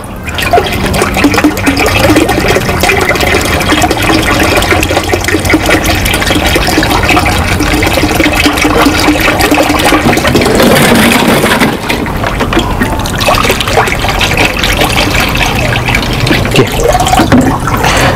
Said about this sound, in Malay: Tu saya nak tapis sikit sebab dalam ni ada juga kotoran.